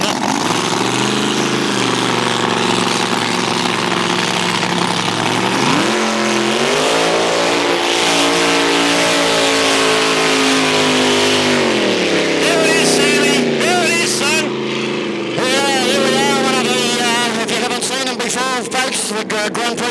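Grand Prix hydroplane racing boat engine warming up at the Lake Eppalock Gold Cup, a loud, close, continuous roar that climbs in pitch partway through, holds high, then drops back as the boat heads out.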